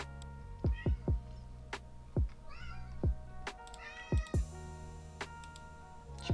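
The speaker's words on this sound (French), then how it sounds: "sais pas si vous entendez mon chat miauler." A hungry house cat meows repeatedly indoors, several short rising-falling cries spread over a few seconds at moderate volume, with faint ticking clicks and a low steady hum underneath.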